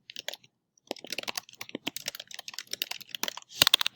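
Someone types on a computer keyboard in a quiet room: a brief burst of key clicks, a pause, then a steady run of close, crisp keystrokes.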